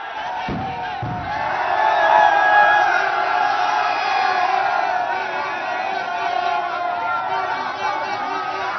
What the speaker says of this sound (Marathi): अजूनही जल्लोष तोच पाहायला मिळतोय